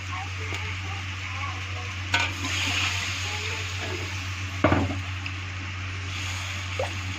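Water poured over fried spices for an egg curry and stirred in a pan, giving a steady sizzle with brief splashy scrapes and stirring clatters.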